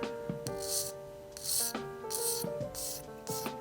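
Repeated rasping strokes of a file scraping a plastic Gundam model kit, five or six rhythmic passes, close and fairly quiet.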